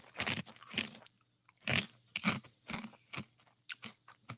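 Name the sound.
crunchy potato ring snack being chewed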